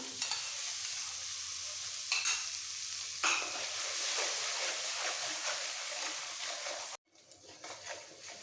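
Spice masala for an okra and potato curry is stirred and fried in a pan, making a strong hissing sizzle with scraping strokes that cuts off abruptly, then returns softer.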